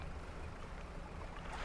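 A small fishing boat's engine in the video game Dredge, a steady low drone with water wash across the bay, constant and unbroken, no voices.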